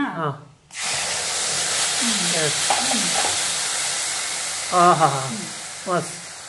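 Tomato puree hits a hot pan for a peanut sambar, starting a steady, close frying sizzle after a brief quiet, while a voice talks intermittently over it.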